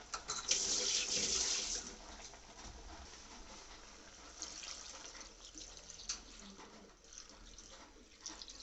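Water pours into a cooking pot holding mutton and tomatoes in a strong, rushing stream for a couple of seconds, then settles into softer splashing and trickling with faint clatter.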